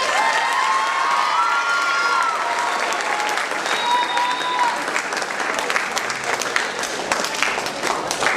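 A school audience at a middle school academic awards ceremony applauds steadily and loudly throughout, with dense clapping and some cheering and shouts mixed in.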